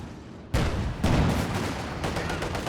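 Heavy mortar barrage in Company of Heroes 2: a sharp loud impact crashes in, then another a half second later, followed by a continuous rumble of overlapping blasts and crackling shell fire, with faint background murmur.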